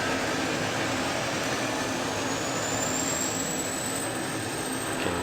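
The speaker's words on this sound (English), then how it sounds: "to start the engine, we'll set the jet fuel starter to start 1" F-16D Fighting Falcon jet fuel starter spooling up in a flight simulator, a loud steady turbine roar with a thin whine rising slowly in pitch, continuous and close with no talking.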